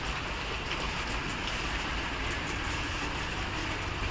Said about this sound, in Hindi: बारिश दे रहा है,